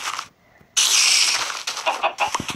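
Chicken in Minecraft being attacked and killed, giving short clucking, squawking game sounds in quick bursts after a brief pause, loud and close with no talk.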